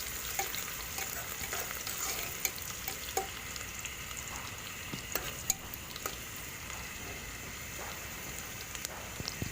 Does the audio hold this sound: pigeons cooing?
no